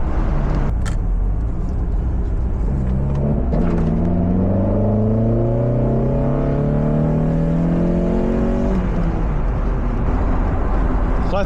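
A naturally aspirated Mazda Miata engine revs at wide open throttle from inside the car, its rising drone climbing steadily for several seconds before easing off over constant road and cabin noise.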